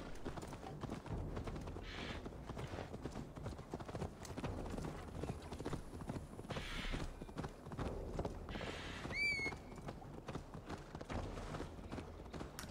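Horse hooves clip-clop at a steady walking rhythm in the video game Assassin's Creed Valhalla, quiet and somewhat distant, with a brief whinny-like call partway through.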